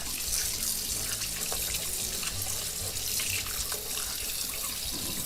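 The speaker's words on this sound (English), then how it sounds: "I'm going to turn on my water." Tap water runs steadily into a sink as ink is rinsed from skin, a close, continuous splashing rush with no pauses or talk.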